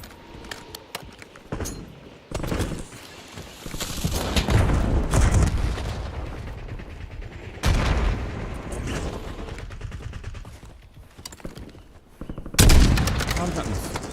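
Call of Duty Verdansk battle royale gunfire: repeated bursts of automatic fire and sharp single shots in irregular clusters, loud and close, with heavy booming hits mixed in and talk alongside.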